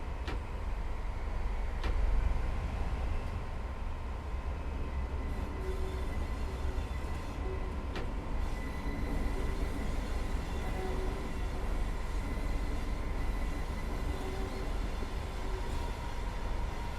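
A Class 33 diesel locomotive pulls away in Train Simulator on the Churnet Valley line, a steady engine drone with low rumble and rail noise holding level throughout, no voices over it.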